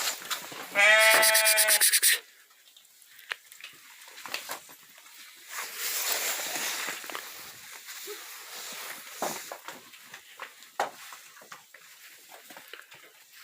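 A loud, close bleat bursts out at the start, followed by scattered fainter bleats and rustling footsteps from a moving flock of sheep, lambs and goats.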